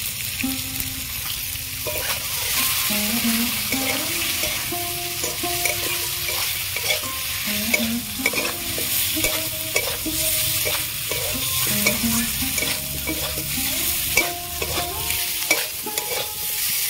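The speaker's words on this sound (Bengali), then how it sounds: "সব কিছু দিয়ে আমি ভালো করে কষিয়ে নিয়েছি" Turmeric, chili, coriander and cumin powders sauté in a pan for a fish-head cabbage ghonto, giving a continuous close sizzle with repeated stirring scrapes and faint background music.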